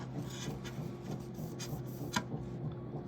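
A brush scrubbing junk out of a USB-C port, giving a steady close rasping rub of bristles against the port with one brief sharper scrape near the end, low and continuous with no talking.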